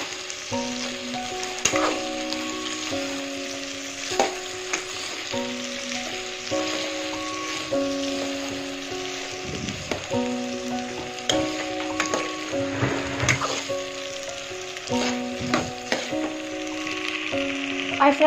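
Prawns frying in a pan for prawn curry, a steady crackling sizzle with occasional stirring scrapes, close and continuous, with a faint tonal hum running beneath.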